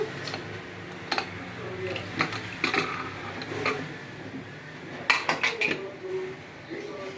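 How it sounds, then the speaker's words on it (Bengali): Pressure cooker lid opened after one whistle on a pot of thin chicken curry with potato and papaya, giving scattered metallic clinks and knocks of pots and utensils, close and intermittent, with a few light sounds between. "এবার আমি ঢাকাটা খুলবো"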